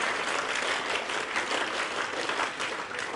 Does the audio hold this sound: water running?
no